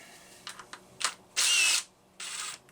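A Homelite 360 chainsaw engine with a misaligned carburetor bushing, starving for fuel, sputters and bursts in uneven spurts, catching briefly then dropping out, with a longer rough rev near the middle.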